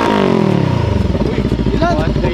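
A motorcycle engine is revved hard at full throttle during a loud exhaust contest, a close, sustained roar that climbs and holds for a couple of seconds.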